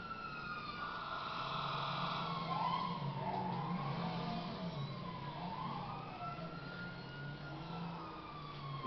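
An ambulance siren in the video game GTA 5 wails steadily in repeated rising and falling sweeps for several seconds, fairly loud over the low rumble of traffic and engines.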